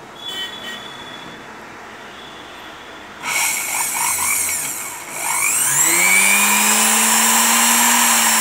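A Usha Pro 145-watt, 1/12 hp commercial sewing machine motor starts with a click, then whines steadily and spins up to a high, rising tone at first speed, close and loud.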